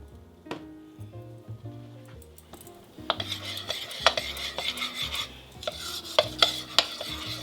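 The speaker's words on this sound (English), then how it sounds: "I'm just going to lightly moisten my cocoa powder into the butter" A utensil scrapes and clinks against a pan while unsweetened cocoa powder gets stirred into melted butter. The stirring strokes are irregular and up close, with a faint sizzle underneath and no voices.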